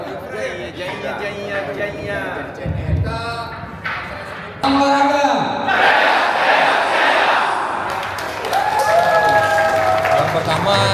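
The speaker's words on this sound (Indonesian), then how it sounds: "Berikan tepuk tangan yang meriah." Applause at a KONI West Kalimantan provincial plenary meeting, a burst of clapping rising about halfway through and continuing, with a voice talking before and over it.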